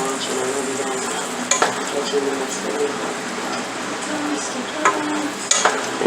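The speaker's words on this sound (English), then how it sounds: "I would recommend stirring it frequently" A spoon stirs apple turnover filling in a cooking pot, giving soft scraping and gentle sizzling with a few sharp clinks of utensil against metal.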